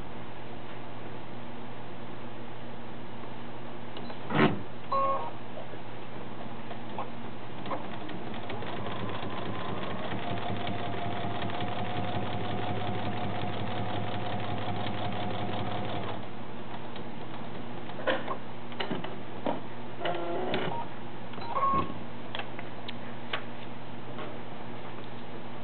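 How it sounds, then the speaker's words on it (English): Sewing machine stitching a paper-pieced quilt seam, a steady fast mechanical rattle running for several seconds in the middle, framed by scattered clicks and taps, close and moderately loud without speech. "I'm going to sew my seam right on the line"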